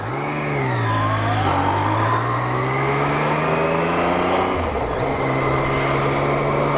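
Yamaha MT-09 motorcycle, a 2017 Race Blue model, revving hard as it accelerates through the gears on the road. The engine note is loud and close, climbs steadily, dips briefly at a gear change, then pulls again, with no talking.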